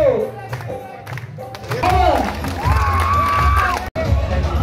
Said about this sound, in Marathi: मित्र जोरदार टाळ्या